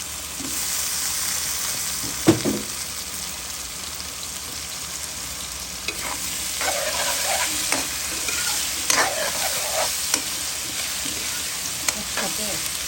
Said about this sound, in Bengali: একসাথে আলু আর পেঁয়াজ ভাজা ভাজা হয়ে গেছে।